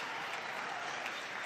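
Steady applause from a sold-out crowd at the 2017 World Table Tennis Championships men's singles match between Hugo Calderano of Brazil and Xu Xin of China, a soft, even wash of clapping heard from a distance.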